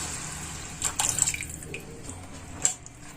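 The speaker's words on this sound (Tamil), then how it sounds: "இப்போ தேவையான அளவு தண்ணி ஊற்றிக்கோங்க." Water is poured into roasted, oil-separated masala in a pan for fish curry, giving a few short splashes and drips, strongest near the middle and once more toward the end, with no talking.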